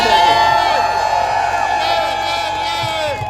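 A crowd at an outdoor political rally near the U.S. Capitol claps and cheers loudly, with whoops rising out of a sustained wall of applause.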